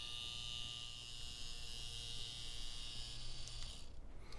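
Tattoo machine fitted with V Select cartridge needles running steadily, a continuous high-pitched electric buzz with a low hum beneath, close and even, fading out near the end.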